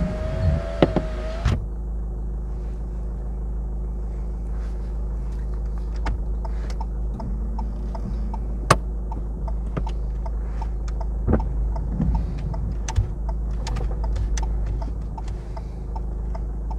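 A car's left turn signal ticks at a steady, regular rhythm inside the cabin during a driving test, quiet and close over a low engine rumble, with a few brief knocks and rustles.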